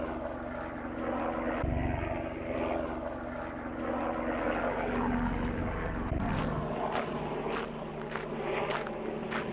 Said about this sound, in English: Don't really want a helicopter as my backdrop.